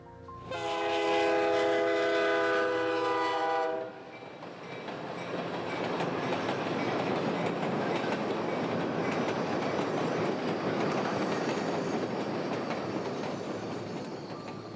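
VIA Rail's Ocean passenger train running north toward Matapedia, a loud sustained horn blast for about four seconds, then a steady rumble and rhythmic clatter of wheels on rails continuing close by.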